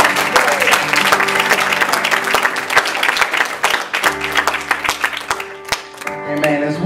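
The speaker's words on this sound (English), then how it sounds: "If you love Jesus, give him a hand clap of praise." A church congregation breaks into sustained applause and hand clapping in a reverberant sanctuary, dense claps filling the whole stretch with a few voices mixed in.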